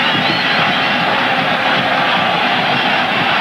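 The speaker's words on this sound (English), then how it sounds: "you hear the reaction of the crowd in Mazatenango" A stadium crowd at a Guatemala vs. USA World Cup qualifying soccer match in Mazatenango, a loud, steady roar of many voices with no break.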